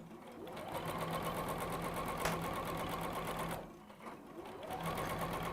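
A sewing machine hums along steadily, stitching quilt strips together at a quick even rhythm, close and continuous with a brief slowdown before resuming.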